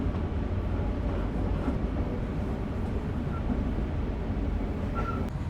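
The Sancaka Utara passenger train rolls through a quiet forest at night, its steady low rumble and rail noise continuous and close, with faint squeals rising now and then over the drone.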